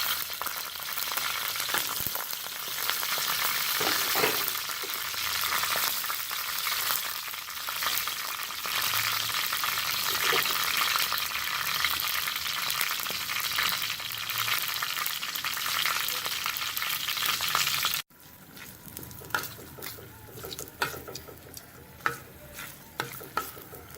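Whole cumin seeds and whole red chillies sizzle and crackle steadily in hot oil as a tempering for pakora kadhi, a loud continuous fry that drops to quieter, sparser popping near the end.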